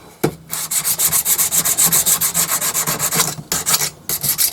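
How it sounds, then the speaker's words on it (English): A cranked deep hollowing tool rest being sanded by hand: loud, close, steady back-and-forth rasping strokes in an even rhythm, broken by two short pauses. "give it a bit of a sand off"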